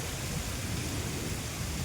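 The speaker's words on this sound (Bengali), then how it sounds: "এই যে জোরে বৃষ্টি শুরু হয়ে গেছে" A constant dense hiss of heavy rain with a low rumbling undertone, heard under an umbrella at an outdoor fishing spot, unbroken and fairly loud throughout.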